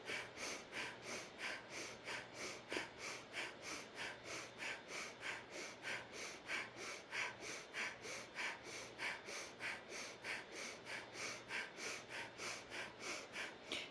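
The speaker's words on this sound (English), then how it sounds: "Breath of fire." Breath of fire yogic breathing, rapid rhythmic pumping exhales through the nose at roughly two per second, steady and close, continuing evenly with no talk.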